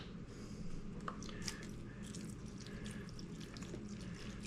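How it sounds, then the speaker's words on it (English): Vegetable broth is poured into a pot of pork neck bones and potatoes, giving a soft, steady liquid splashing and burbling that runs continuously at low volume, with no talking. "Now, next thing we want to do is add 3 cups of broth. I'm using vegetable broth."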